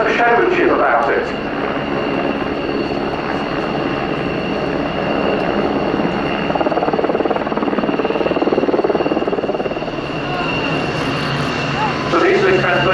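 A PZL Sokol twin-engine, medium-sized multi-purpose helicopter in search-and-rescue colours flies a display at an air show, its loud steady engine and rotor roar filling the scene while a commentator speaks over it throughout.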